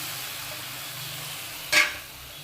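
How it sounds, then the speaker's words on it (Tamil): Mashed tomatoes sautéing in a pan for neem flower rasam, giving a steady soft sizzle with one brief louder stir or hiss near the end, close by. "கொட்டி இதையுமே நல்லா வந்து வதக்கலாம்."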